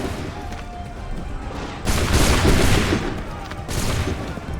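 A musket volley in Assassin's Creed III, dense overlapping gunfire bursting out in two loud waves over a rumbling battlefield background.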